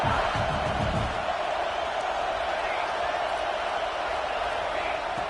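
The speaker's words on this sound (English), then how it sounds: "Listen to the crowd energy here in the early going." Steady, dense roar of a football stadium crowd cheering early in a game, loud and continuous without a break, with scattered shouts rising from the mass of voices.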